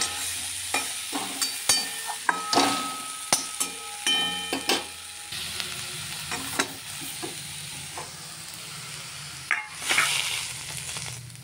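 Greens (saag) fry in a pan with a continuous sizzle, while a utensil scrapes and knocks against the pan in a string of sharp clinks and stirring strokes, close and clear.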